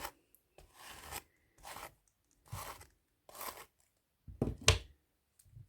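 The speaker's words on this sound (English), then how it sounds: "I'm just going to brush through her hair one more time and getting any knots out." Hairbrush pulled through a Bratz doll's hair, heard as a handful of separate soft raspy strokes, close and quiet, with short silences between them.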